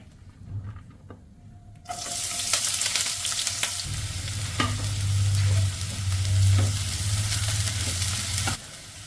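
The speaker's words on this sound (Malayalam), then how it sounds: "പാന് നന്നായിട്ട് ചൂടായിട്ടുണ്ട് അതിലോട്ട് ശകലം ഓയിൽ ഒഴിച്ചു കൊടുക്കാം ഇനി നമുക്ക് സവാള ചേർത്ത് കൊടുക്കാം" Onions drop into hot oil in a heated pan and burst into a loud, steady sizzle that holds for several seconds amid stirring scrapes, then cuts off near the end.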